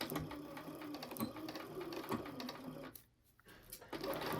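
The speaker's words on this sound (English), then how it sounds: "I'm going to slide it back onto the free arm of my machine, starting at the bottom. And I'm going to stitch in the ditch here very carefully." A sewing machine, its free arm holding a small quilted oven mitt, stitches in the ditch with a steady, fast mechanical whir and chatter, pausing briefly partway through before running again.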